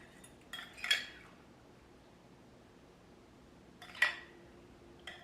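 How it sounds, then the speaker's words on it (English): Peaches being spooned into cobbler batter, two soft clinks and scrapes of a spoon against a dish about three seconds apart, close and quiet over faint background hiss, no talking. "We gently spoon our peaches into the batter"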